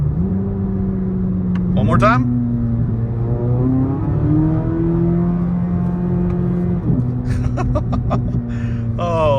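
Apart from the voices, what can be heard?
C8 Corvette Z06 engine revving on downshift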